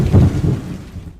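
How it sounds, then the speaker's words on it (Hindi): Heavy rain and rumbling thunder sound in a cartoon as a cloud pours down on a ghost in a jungle, with a loud rolling burst that fades within a second. "भूत के ऊपर बहुत तेज बारिश शुरू कर देता है"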